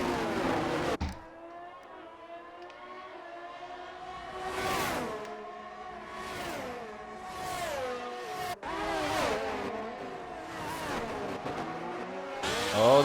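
Ferrari race cars in a racing game, engines rising and falling in repeated howling pulls as they race side by side, with abrupt cuts between loud passes and quieter stretches.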